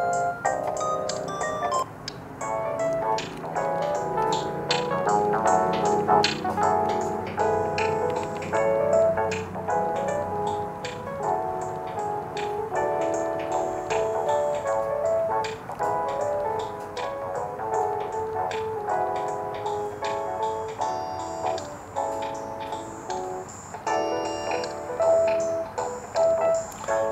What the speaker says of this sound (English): This was my favorite ringtone, and this is my second favorite ringtone.